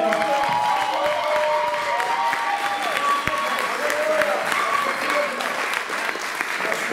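Applause from a church congregation praising the Lord fills the space with steady, sustained clapping, while cheers and a voice rise over the dense crowd sound throughout.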